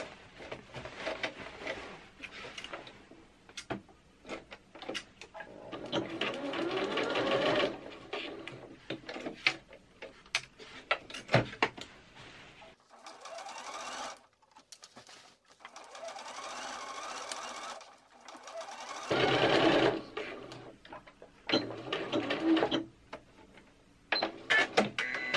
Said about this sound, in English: And then you stitch along here at a 3/8 of an inch seam allowance